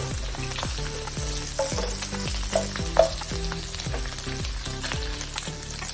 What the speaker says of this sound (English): Stir the bacon.